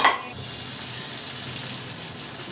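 Half-fried eggs sizzle steadily in a pan alongside leftover paratha, a continuous close frying hiss with a brief clatter at the start and no talking.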